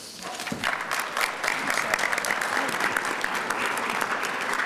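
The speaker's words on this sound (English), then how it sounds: "Let's give her another round of applause, Fuji" Sustained audience applause fills a Black History celebration program in Tampa, a dense, steady wash of many hands clapping from start to finish with a faint murmur of crowd beneath.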